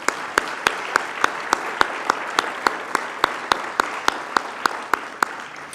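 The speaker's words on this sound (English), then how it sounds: "A huge round of applause for that." A room of people at an awards ceremony gives a round of applause, the steady wash of clapping punctuated by one loud, regular nearby clap repeating about every half second.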